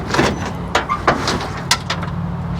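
The door lock on a 1971 Chevy Nova is worked by hand, giving a series of sharp metallic clicks and clunks at irregular intervals, close and fairly loud over a low background hum.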